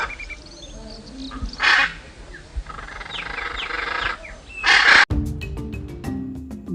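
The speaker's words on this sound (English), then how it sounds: "Blue jay, one of the world's intelligent birds, found them in East and Central America." Harsh, loud calls from a blue jay, with two strong bursts and softer chirps from other birds in the background. A sharp clatter near the end is followed by a sequence of clicks.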